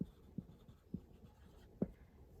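A pen writes on paper in soft, sparse strokes and taps, close and quiet, with short pauses between marks and no voices.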